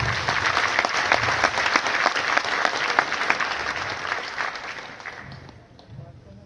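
Loud, sustained applause from a large audience at a national stage business event in Bhilwara, Rajasthan, dense clapping throughout that gradually thins toward the end, with crowd voices mixed in underneath.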